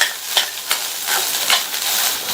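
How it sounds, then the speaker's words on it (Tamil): Chopped onion and grated coconut sizzle and crackle in a hot pan with a few louder scraping stirs, steady frying noise throughout, close and fairly loud. "ஒரு மீடியம் சைஸ் கட் பண்ண வெங்காயம், 1/4 கப் தேங்காய் துருவலையும் சேர்த்து நல்லா ஒரு வதக்கி விட்டுறலாம்"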